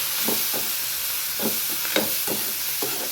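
Whole cumin, pepper, cinnamon and cloves dry-roasting in a pan, with a continuous soft sizzle and hiss and irregular scraping stir strokes repeating close by.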